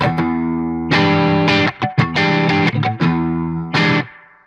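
Distorted electric guitar through an EVH 5150 Iconic amp with reverb added, heavy sustained chords struck in loud bursts with short gaps and choppy stabs, ringing out with a reverb tail at the end.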